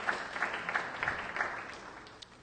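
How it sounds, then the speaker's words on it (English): A church congregation applauds at a Black History Month service, a soft, fairly distant patter of clapping with rhythmic pulses that fades out over a couple of seconds. "give yourselves a round of applause for your continuous support"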